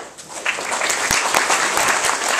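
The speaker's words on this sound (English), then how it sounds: "It's always great to get applause before you put on your show." Audience applause fills a hall at a speaking event, a dense, steady wash of many hands clapping throughout, loud and close with no voices standing out.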